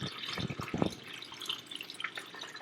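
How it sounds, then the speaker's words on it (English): Tap water pours and splashes into a small hanging fish bowl set up with pond stones and a fake plant, giving close, uneven bursts of trickling and dripping. "Next, we gonna add some water."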